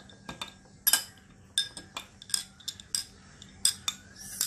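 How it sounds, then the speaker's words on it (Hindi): A spoon stirs a sabja drink made with lemon, pink Himalayan salt and cumin powder in a glass. Quick, bright metallic clinks repeat against the glass in an uneven rhythm, close up, with no talking. "and then you give it a nice stir"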